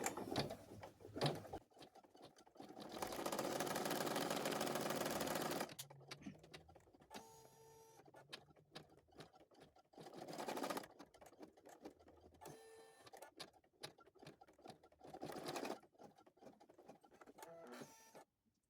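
A sewing machine stitches placement lines on a cloth doll body, running in bursts of rapid, even clatter, including one long steady stretch, broken by pauses and small mechanical clicks as the machine stops and starts.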